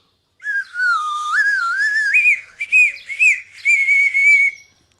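A person whistles a wavering, melodic tune in several phrases, clear and close, with brief pauses between bursts and no talking, as if whistling to a cat.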